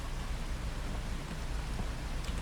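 Rain falls steadily in the farming video game Farming Simulator 25, a soft, even, low patter that continues without pause.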